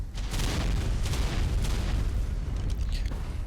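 Continuous rumbling explosions and booming blasts in a frosty dinosaur survival video game, loud and dense throughout with no clear gaps.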